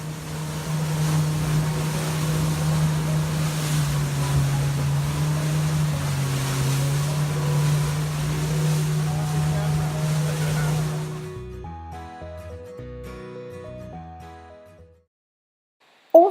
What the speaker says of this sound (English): we're all heading back to the boat for a long trip back with the speedboat